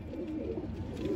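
Pigeon cooing in a rooftop setting where Hyderabadi pigeons are flown, a soft low repeated coo sitting fairly close over steady background noise, with no talk.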